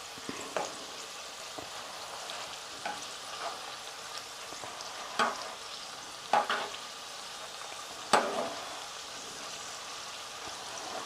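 Okra (ladies finger) frying in a pan gives a steady, soft sizzle, broken by a few sharper crackles and pops as the pieces fry, close and fairly quiet with no voice.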